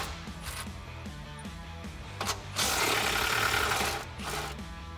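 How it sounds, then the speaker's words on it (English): Nuts holding a Jeep Wrangler JL front bumper to the frame horns are removed with an 18 mm socket. A steady mechanical whirring runs throughout and swells into a louder, harsher burst midway before easing back. "Next, we can remove the 8 nuts that are holding the bumper onto the frame."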